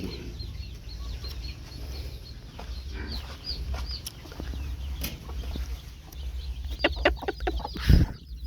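Chickens cluck and chatter in a coop with many birds kept penned together, a mix of soft overlapping clucks over a low steady background, with a louder flurry and wing-flapping thump near the end.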